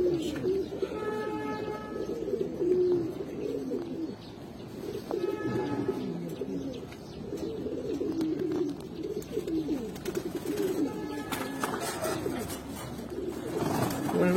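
A female pigeon at a pigeon seller's coos in repeated low, throaty bursts, close by, with faint chirps from other birds in the background.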